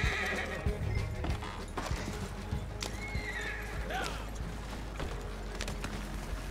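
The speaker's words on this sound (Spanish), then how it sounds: "Ay, qué caballo más bonito, el blanco." Horse hooves clip-clopping with a neigh in the western video game Red Dead Online, steady hoofbeats at moderate distance under a constant low game ambience, with no talk.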